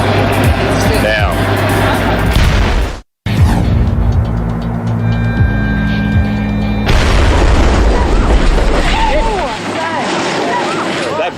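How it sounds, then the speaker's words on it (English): Explosives detonated aboard a vessel to sink it go off in a huge, close boom that saturates the sound, then a roaring rush of water and debris, with excited voices and a brief cut partway through. "The brute force of the explosion actually launches a team member above the canopy of the vessel"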